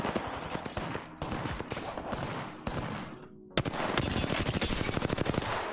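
Gunfire in Apex Legends during a Season 7 match: several short, loud bursts of close automatic fire, a brief pause, then a long rapid stream of shots rattling steadily to the end.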